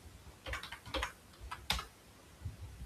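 Code being typed on a computer keyboard in a few quiet bursts of key clicks with short pauses between them, close and faint, with no talk.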